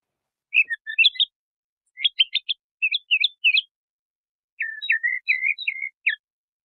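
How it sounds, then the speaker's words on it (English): A mockingbird sings several short bursts of varied chirps and whistles, separated by pauses, clear and close against silence. "That sounded to me like a tentative bird."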